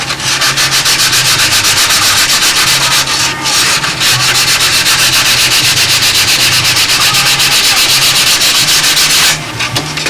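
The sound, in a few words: sanding a model airplane cowl joint with sandpaper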